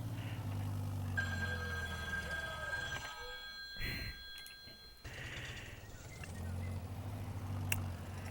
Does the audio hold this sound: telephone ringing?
yes